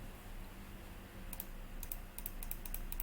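A few crisp, quick computer clicks in a quiet room, used to open a video file in screen-recording software, arriving in short irregular bursts over a steady low hum.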